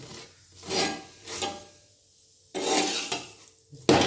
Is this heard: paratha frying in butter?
yes